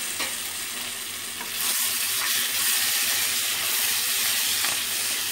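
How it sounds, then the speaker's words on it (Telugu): Chili powder frying in hot oil for a Telugu-style goat leg paaya, a steady loud sizzle with scraping stirring strokes throughout and no talking. "కారం వేసి 1 మినిట్ వరకు వేయించుకోవాలి."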